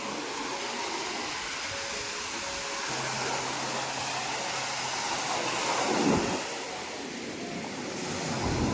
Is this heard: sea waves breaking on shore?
yes